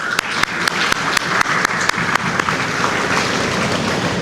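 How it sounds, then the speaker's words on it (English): A round of applause at a medical college graduation ceremony, a hall full of people clapping steadily with a few sharp nearby claps standing out, fading slightly toward the end. "we all need to give a big round of applause"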